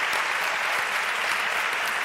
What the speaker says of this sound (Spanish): Yo creo que también se merece un aplauso.